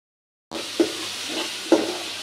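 Noodles being stirred and fried in a pan, with a steady close sizzle and two soft knocks of the utensil against the pan.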